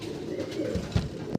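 A pair of fancy pigeons in a loft coos softly, low rolling coos fairly quiet and close, with a couple of fuller coos near the end.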